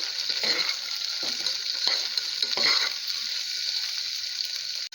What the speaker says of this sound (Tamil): வெங்காயம் நல்லா வதங்கணும். நல்ல ப்ரௌன் கலர் வர வரைக்கும் வதக்குங்க